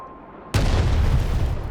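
Artillery fires in the Broken Arrow military strategy game: a single sudden heavy boom breaks a quiet hum and rolls into a loud, sustained low rumble.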